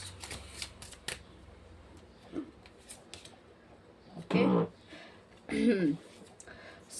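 Tarot cards being shuffled with quick papery riffles and flicks, close up, mixed with a person talking.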